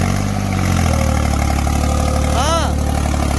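Tractor engine working hard while pulling a subsoiler through a field, a loud, steady low drone close by with a brief whining tone midway; a voice is heard over it.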